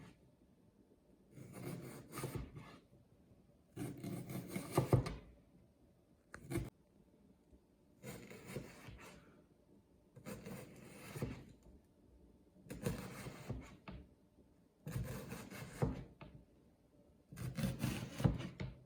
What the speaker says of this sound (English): we're gonna start cutting up this onion here. We're gonna do nice little thin strips.